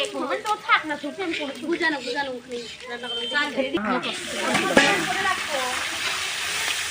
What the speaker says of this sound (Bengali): এখন এই যে মশলা কষানো হচ্ছে পেঁয়াজ শুকনো লঙ্কা তেজপাতা মটরশুঁটি জিরা মশলা সব কিছু দিয়ে